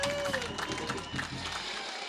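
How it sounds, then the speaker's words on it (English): Graduates at the Lukenya University fourth graduation ceremony clap for themselves, a broad wash of crowd applause and murmur heard at a distance over an amplified, reverberant outdoor setting. "Clap for yourselves."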